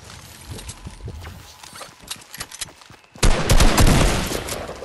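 A pump shotgun fires in the video game Fortnite. Mechanical clicks and small impacts come first, then a sudden loud blast of gunfire bursts in and stays dense and heavy until the end.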